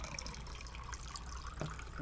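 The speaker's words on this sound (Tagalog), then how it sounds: "So ato ning butang ang tubig." Water is poured into a pot while siomai is being cooked, a steady close splashing trickle that runs the full length beneath a low, constant background hum.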